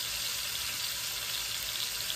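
Chicken cooking in a pan for a Caesar salad, a steady, even close sizzle of frying meat with no talk.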